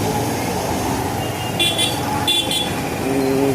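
Sunday traffic jam in the Kolsewadi market, Kalyan East, with a steady roar of idling engines and street noise and short car horn toots breaking through, loud and close.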